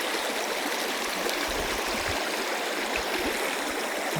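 A slippery river in Aurora rushes past close by as a continuous broadband hiss and gurgle, steady and loud, with no voices over it.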